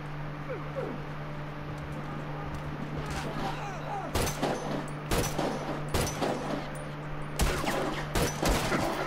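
Gunfire in a shooter game, several sharp shots and short bursts clustered in the second half, fairly close, over steady background noise and a low hum.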